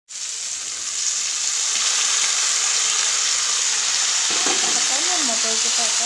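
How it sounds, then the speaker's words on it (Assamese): Peas frying in hot oil in a pan, a loud, steady bright sizzle that starts abruptly and holds without a break, close and alone. "মটৰকেইটা অকণমান ভাজি ল'ব"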